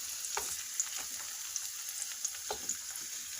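Egg frying in a pan alongside tomato and melting cheese for a Jamaican-style breakfast, a quiet, steady sizzle with a few soft pops and light utensil taps, no voice.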